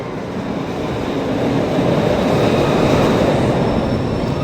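A roller coaster train rumbles through the enclosed greenhouse station of Kicker Actbahn at Duinrell, a loud, steady roar with faint squeal that swells slightly, with no talking.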